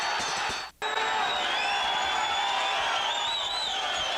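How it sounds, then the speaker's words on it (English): Boxing arena crowd at a Rosenblatt versus Lally bout, a dense roaring wall of cheers and whoops that briefly drops out then surges back and holds steadily, loud and continuous. "Rosenblatt hears the cheers from the crowd"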